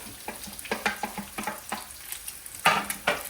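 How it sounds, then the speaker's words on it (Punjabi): Onions frying in a pan with garlic and ginger for egg keema give a soft sizzle beneath repeated scraping and stirring clicks of a utensil against the pan. "ਜਦੋਂ ਥੋੜਾ ਜਿਹਾ ਸੇਕ ਲੱਗ ਜਾਊਗਾ ਫਿਰ ਆਪਾਂ ਪਾਵਾਂਗੇ ਜੀ ਇਹਦੇ ਵਿੱਚ ਪਿਆਜ਼"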